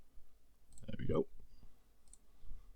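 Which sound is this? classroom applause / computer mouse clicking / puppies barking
computer mouse clicking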